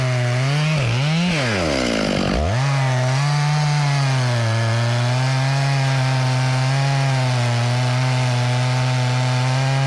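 Chainsaw cutting around the trunk of a large, stringy cottonwood tree during felling, a loud steady engine drone that dips and bogs briefly near the start before holding a constant high-revving cut to the end, with no talking.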